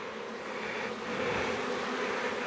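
Honey bees crowd a hive frame with a steady, dense buzzing hum that swells a little partway through and stays close and continuous, with no one speaking.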